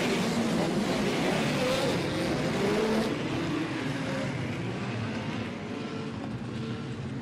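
Midget race cars lap a dirt oval at Port City Raceway in a POWRi National and West Midget League event, a constant far-off engine roar blending with crowd and track noise.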